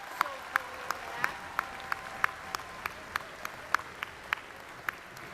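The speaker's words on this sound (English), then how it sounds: "I think we ought to give them one more round of applause." Sparse, scattered claps from a commencement ceremony audience, a slow irregular series of distinct hand claps over a quiet hall background rather than full applause.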